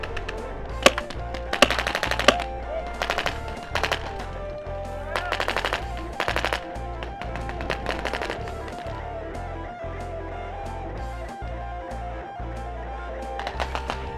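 Paintball markers fire in a paintball game, with rapid bursts of sharp, loud popping shots coming in clusters over a steady backdrop.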